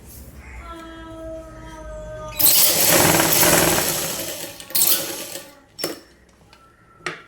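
A sewing machine stitches the lining of a half collar top: a loud, steady mechanical whir runs for about two seconds, then several shorter bursts of stitching follow, separated by quiet pauses.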